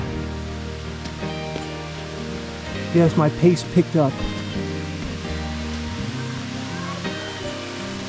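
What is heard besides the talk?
waterfall, water pouring down rock face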